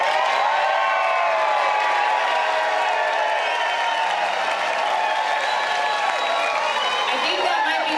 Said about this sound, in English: I think that might be breaking the applause meter, maybe.